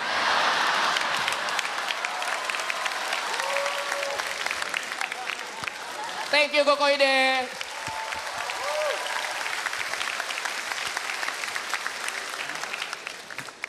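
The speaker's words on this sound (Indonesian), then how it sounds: "Tepuk tangan buat Koide" Applause from a comedy show audience, a steady wash of clapping that runs throughout, with a voice speaking over it and a brief tonal sound partway through.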